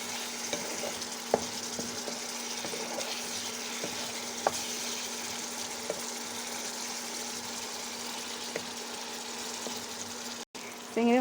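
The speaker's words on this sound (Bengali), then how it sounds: "চিংড়ি মাছটা একটু ভালো করে কষাই নেব আবার" Prawns sautéed with spices in a pan give a continuous steady sizzle and frying hiss, with occasional light stirring clicks, close and moderately loud.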